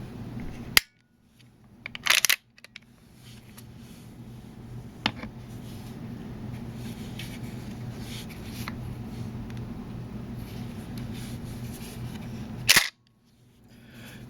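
The action of a Benelli M2 Tactical shotgun worked during a safety check: a few sharp metallic clacks and snaps separated by quiet, with a closing clack near the end, over a low steady hum.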